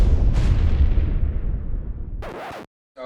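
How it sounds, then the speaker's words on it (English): A heavy explosion booms in a loud, deep rumble that slowly fades, then a second sharp blast bursts briefly before sudden silence. "Send in the airstrike."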